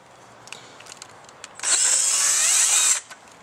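A brief, high-pitched whine of a power drill with a 3.5mm bit boring into material for about a second and a half, close and loud against quiet surroundings.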